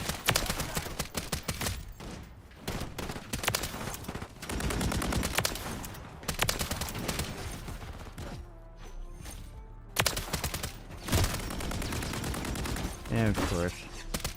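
Video game gunfire in rapid repeated bursts, dense and loud, with short pauses between volleys, plus a brief voice talking over the shots.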